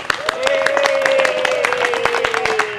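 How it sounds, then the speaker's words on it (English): A church congregation at a Sunday service claps for the singers and performers, sharp individual hand claps in an irregular but steady patter, with a sustained sung or hummed tone gliding underneath. "Give them a round of applause already."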